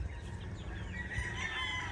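Chickens clucking and a rooster crowing, a steady flock chorus over a low background hum, fairly close.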